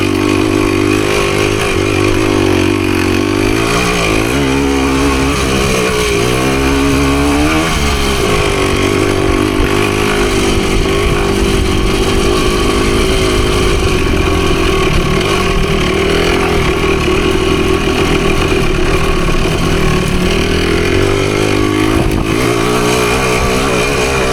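A Husqvarna PE250 dirt bike engine revs hard and continuously on a trail, rising and falling in pitch as it climbs from second toward third gear, loud and close the whole time.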